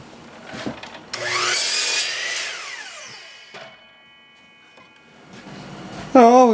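Power saw cutting maple and ash rails to length, the blade whining up and biting through the wood for a couple of seconds, then spinning down, with a second shorter cut and a brief voice near the end.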